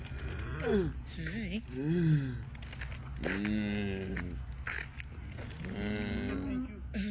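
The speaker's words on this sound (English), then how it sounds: "this cow has popcorn lung, man" A cow's rough, hoarse cough-like moos and wheezing calls repeat through the clip at moderate loudness, mixed with people talking and reacting nearby.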